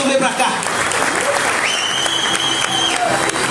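Applause from a comedy-show audience welcoming a comedian to the stage, a dense steady clatter of many hands with a whistle rising through it, loud and close, with a voice speaking over it.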